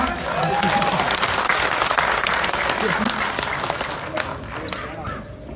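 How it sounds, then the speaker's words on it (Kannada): Sustained applause from an audience at a government employees' meeting, dense and loud, fading slightly toward the end with scattered claps. "ಚಪ್ಪಾಳೆ ಕಡಿಮೆ ಹೊಡೆದ್ರೆ ಹೆಂಗ ಅನುಮೋದನೆ ಕೊಡೋಕ್ಕಾಗತ್ತೆ?"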